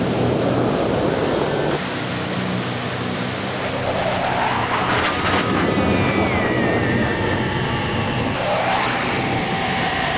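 A military strike jet in a training exercise roars loudly and steadily overhead, a broad rushing noise with whining tones that rise and fall as it passes.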